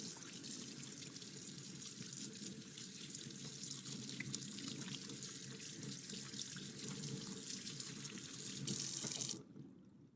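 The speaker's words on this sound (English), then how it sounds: "Finally, rinse the hands thoroughly with running water." Running tap water pours steadily into a sink as hands are rinsed under it, a continuous close hiss that stops abruptly near the end.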